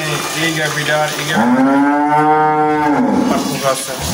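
A Holstein Friesian dairy cow on a farm gives a loud, close, drawn-out moo lasting a couple of seconds, rising and falling over steady background noise.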